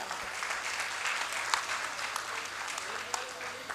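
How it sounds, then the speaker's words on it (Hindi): An audience claps for a choreographer named Manoj at a stage event: a dense, steady burst of applause from a crowd, lasting a few seconds at moderate volume. "मैं चाहूंगी हम सब मनोज के लिए जोरदार तालियां बजा दें"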